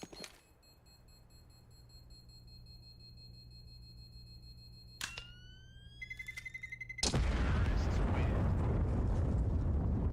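In-game ambience on the Counter-Strike map Mirage: a quiet hum and a few sharp beeps, then a sudden, heavy explosion roar that rumbles on to the end.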